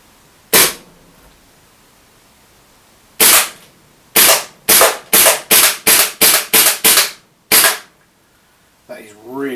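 A KWA KZ61 gas blowback airsoft SMG fires loud, sharp pops nearby: two separate single shots, then a rapid run of about seven, one more shot, and a brief rough noise at the end.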